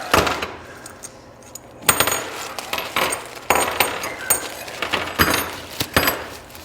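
Metal nuts and bolts for an engine stand clink and jangle as they are handled and dumped out of a box, with repeated sharp rattling bursts close by and no talk.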